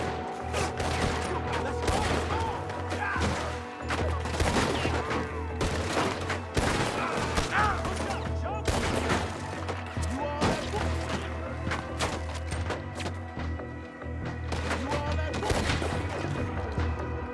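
Gunfire in the video game Red Dead Redemption 2, a cowboy shootout in story mode, with dense repeated shots and impacts over steady game background sound, continuous and loud throughout.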